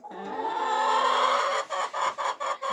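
Chickens clucking in a village farmyard on a cold winter morning, a drawn-out rising call followed by several short, separate clucks close by.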